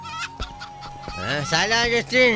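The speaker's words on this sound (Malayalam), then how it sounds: "നാടൻ കോഴിയാണ" A country chicken clucks and squawks close by in quick, uneven calls that rise into louder drawn-out cries, with a faint steady tone underneath.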